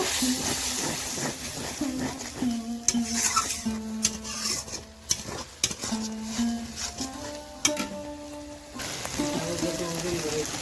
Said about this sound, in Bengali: দিয়ে ভালো করে নেড়ে নেব